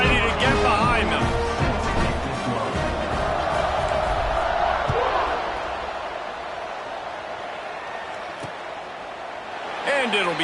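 A big football stadium crowd roars just before kickoff, a dense wall of cheering that swells and then eases, with an announcer talking over it.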